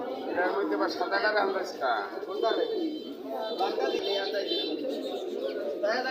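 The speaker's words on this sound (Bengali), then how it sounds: "তোমার এখানে তো অনেক কবুতর দেখা যাইতেছে" Pigeons and doves coo amid a busy pigeon market at Kasimpur, their calls partly buried under steady nearby conversation.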